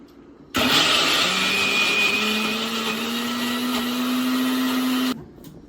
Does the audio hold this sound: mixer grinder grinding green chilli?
yes